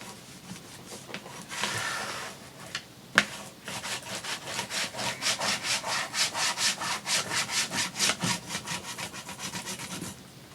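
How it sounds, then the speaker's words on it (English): Paper being rubbed firmly onto a lapbook so the glue holds, giving steady rhythmic rasping strokes at close range, about a dozen quick back-and-forth passes with a sharp tap partway through and no talking. "we're going to rub that center and make sure it really is stuck. Rub the whole thing down"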